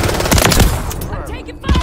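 Rapid automatic gunfire in Call of Duty MW3 hammers loudly and continuously, with a short lull before another close burst.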